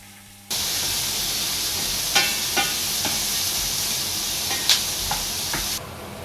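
Onion and capsicum fry in a kadai pan with a loud, steady sizzle that begins abruptly and runs unbroken, marked by several sharp stirring clinks and scrapes before it cuts off near the end.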